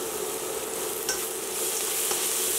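Minced garlic and translucent onion stirred in a pan, a steady soft sizzle with a couple of faint scrapes, no voices.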